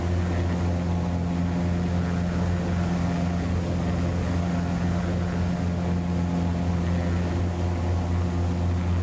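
Maule M-7-235B single-engine propeller plane climbing in the flight simulator X-Plane 12, giving a steady, loud engine drone with strong low harmonic hum, continuous and unchanging throughout with no talk.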